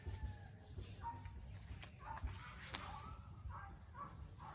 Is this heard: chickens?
yes